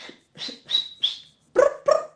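Several dogs barking in short sharp bursts, four quick higher barks followed by two louder, deeper ones, fairly close with no talking.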